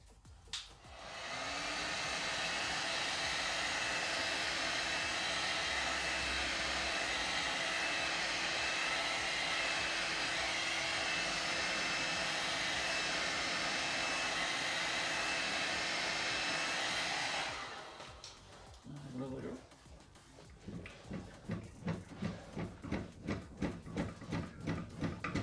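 A heat gun blows a loud, steady roar for about sixteen seconds while warming a car wheel arch before rolling it, then cuts off, leaving quieter handling noises and faint rhythmic sounds.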